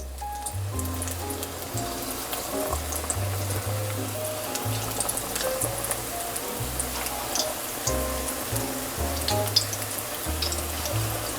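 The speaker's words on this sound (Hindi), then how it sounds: "अब हम पकोड़ों को फ्राई करना शुरू करेंगे" Spinach and onion pakoras, dropped into hot oil by hand, sizzle in a steady crackling hiss over a low, rhythmic tonal hum. The sizzle continues unbroken throughout with scattered pops.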